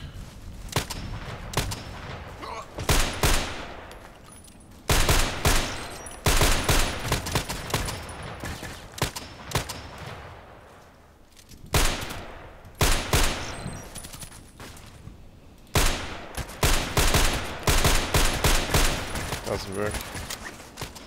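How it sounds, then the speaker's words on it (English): Sniper rifle shots during a weapon test in a video game: loud, sharp gunfire bursts recurring every few seconds, each followed by a brief echoing tail, with quieter gaps between. "It's a sniper rifle, so here I need also the weapon test done."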